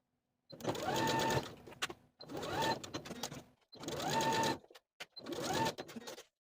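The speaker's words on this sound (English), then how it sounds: "I'm going to sew that elastic in place from one side to the other, right on top of the original stitching line" A sewing machine stitches clear elastic onto the shoulder seams of a knit dress, running in four steady bursts of about a second each with short pauses between them, close and clear without talking.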